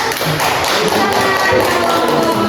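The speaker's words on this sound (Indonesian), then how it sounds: "tepuk tangan dulu" Dense, steady hand clapping from a full classroom of students after a group presentation, loud and continuous with no clear gaps, with voices mixed in underneath.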